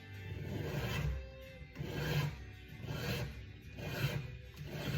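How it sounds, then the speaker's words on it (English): Straight blade razor scraping and peeling old grip tape off a golf club shaft, in repeated close rasping strokes about once per second, with no talk. "I got a straight blade razor, and then all I did was start peeling it off like this"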